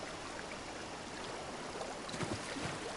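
Flowing water in an Elder Scrolls game, an even, unbroken gurgling rush of a stream that swells slightly toward the end, with no speech.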